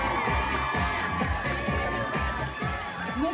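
Children at a summer camp friendship campfire cheer and applaud loudly as a continuous crowd roar, with a quick, regular pulse of thumps running through it for a few seconds.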